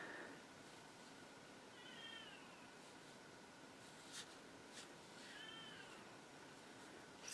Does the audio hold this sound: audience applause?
no